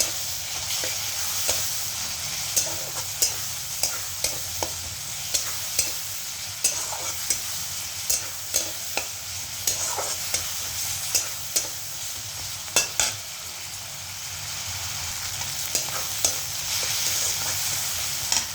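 Garlic cloves frying in a pan amid a steady loud sizzle, with regular sharp clicks of a utensil stirring and scraping the pan throughout.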